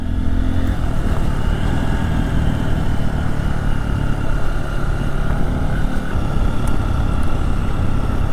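A Honda motorcycle climbs a steep muddy bank off-road, its engine giving a continuous, loud mid-pitched drone that strains steadily through the climb with no voices over it.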